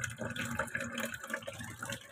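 A thin stream of tap water runs steadily into a sink, a soft continuous splashing trickle, fairly close.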